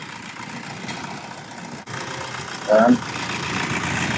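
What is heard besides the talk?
car engine idling with negative battery terminal removed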